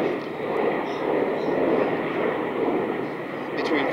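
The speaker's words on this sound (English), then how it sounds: "and yes, and the jet's going over." A passing jet airplane roars overhead as a broad, steady wash of engine noise that holds loud and even throughout, with no gaps.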